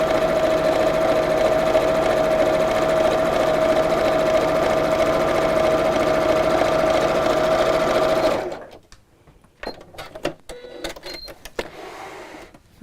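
A sewing machine stitches an apron seam smoothly around a curve, running in a fast, steady close-up whir for about eight seconds, then stopping, followed by a few light clicks and handling sounds.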